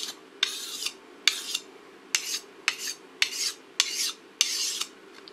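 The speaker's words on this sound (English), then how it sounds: "Now this stone also could be used to polish up the edge." Sashimi knife blade drawn across a whetstone to polish the edge, nine separate gritty scraping strokes in a steady rhythm, close and clear over a low hum.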